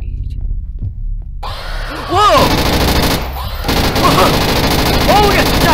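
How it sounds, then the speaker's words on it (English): Rapid machine gun fire in the horror game Grey, set in a hospital, erupting loud and near in sustained bursts, with a voice exclaiming over it. "Oh, machine gun."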